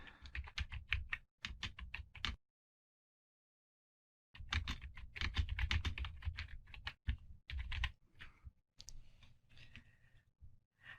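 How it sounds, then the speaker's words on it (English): Fingers type a blog post title on a computer keyboard in quick bursts of crisp clicks, then pause silently before resuming with steady, rapid keystrokes. "then you can just simply type away"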